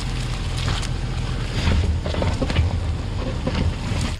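A Porsche Cayenne drives off-road through deep holes, a rough low rumble of engine and wind buffeting, with thumps and rattles from the body as it lurches over uneven ground.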